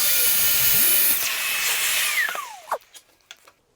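A track saw cuts through a board, a loud steady whining drone that runs for about two seconds, then winds down and stops, followed by a few short knocks and clatters as it settles.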